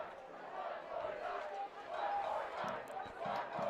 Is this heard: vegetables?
no